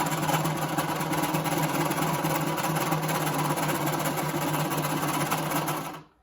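A sewing machine runs steadily, stitching along the edge of a cloth face mask in one continuous whirring burst, loud and close, before stopping abruptly near the end.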